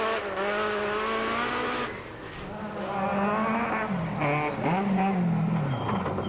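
A rally car at the Toyota Dealer Rally 2001 races through an 8-kilometre stage on a flat tyre, its engine loud and close, revving up through gears with quick shifts and pitch swoops as it powers along.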